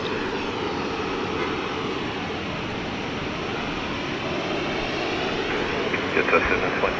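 A jet airliner takes off from runway 16 right at Sydney Airport, its engines giving a steady, powerful roar that builds slightly toward the end, heard from a distance.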